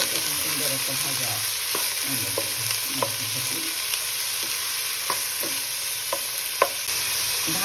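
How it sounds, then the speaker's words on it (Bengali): Chopped figs stirred into browned fried onions in a hot pan, a continuous oily sizzle broken by repeated scraping strokes of a spatula, close and steady with no talk. "পেঁয়াজ লাল লাল হয়ে গেছে। এবার আমি এর মধ্যে যে ডুমুরটা দিয়ে দিচ্ছি।"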